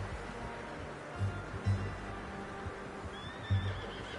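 A horse whinnies faintly in the distance over a soft outdoor ambience in the video game Red Dead Redemption 2, with a few dull hoof thumps nearby.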